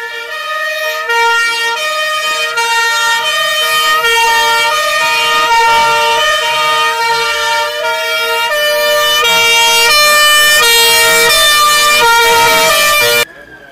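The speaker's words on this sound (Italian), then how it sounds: "Mentre tutto intorno vi sono le sirene." Vintage Alfa Romeo Giulietta police cars sound their sirens at a classic car gathering, a loud, close, unbroken two-tone wail that alternates pitch steadily throughout before cutting off abruptly.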